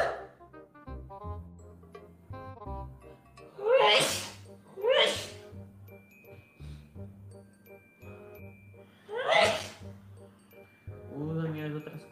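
Three loud, abrupt human sneezes, two close together and then one a few seconds later, set among casual speaking voices and faint clinking sounds in a live-stream setting.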